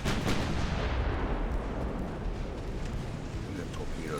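Warship guns firing in the naval game Ultimate Admiral: Dreadnoughts with 1890 Italian ships, a continuous heavy rumble of booming artillery with a sharp blast at the start.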